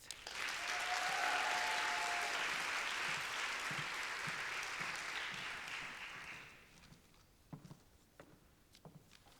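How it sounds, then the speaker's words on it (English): Warm audience applause at an evening honouring Black Canadian trailblazers, a full round of clapping that swells, holds for several seconds, then tapers off into a few scattered claps and room noise. "Please welcome, big round of applause for Anthony Wilson-Smith."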